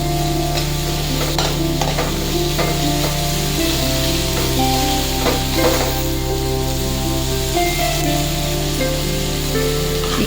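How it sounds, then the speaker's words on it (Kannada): Drumstick leaves and coriander fry in a pan with a steady crackling sizzle and occasional stirring scrapes, close and continuous. A constant low hum sits underneath and no one speaks. "ಇದಕ್ಕೆ ಸ್ವಲ್ಪ ಕೊತ್ತಂಬರಿ ಸಮೇತ ಹಾಕ್ಕೊಂಡು ಫ್ರೈ ಮಾಡ್ಕೊಳ್ತೀನಿ."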